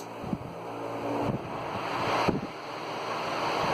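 Steady whooshing roar of a GE pedestal fan running loud and close, a broad airy rush with a faint low hum and a few soft clicks.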